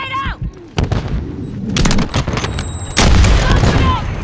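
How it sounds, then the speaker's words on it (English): Stun grenade detonating during a Call of Duty Modern Warfare III multiplayer match, a loud burst amid heavy surrounding gunfire and booms, with brief game voice callouts early on. "Stun grenade out!"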